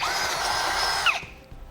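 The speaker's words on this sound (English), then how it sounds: "now last 2 holes we'll drill out again" A power drill bores a hole through the frame of a 2010 Honda CR-V while a Blue Ox base plate is being fitted, a steady close high-pitched whine for about a second before it stops abruptly.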